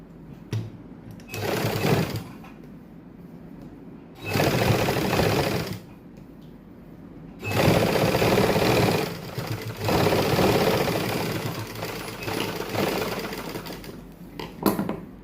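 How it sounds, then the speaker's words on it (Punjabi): Sewing machine top-stitching lace onto a fabric sleeve, running in several loud bursts of rapid stitching separated by short pauses, close and clear with no talking. "ਇਸ ਤੋਂ ਬਾਅਦ ਆਪਾਂ ਲੈਸ ਨੂੰ ਇਸ ਤਰੀਕੇ ਨਾਲ ਪਲਟਾ ਦੇਾਂਗੇ ਤੇ ਇੱਥੇ ਆਪਾਂ ਟੌਪ ਸਟਿਚ ਲਾ ਦੇਾਂਗੇ"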